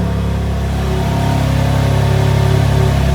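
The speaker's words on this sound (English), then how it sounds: "Starts engine." Supercar engine running at a steady low idle, a constant deep rumble up close with no voices.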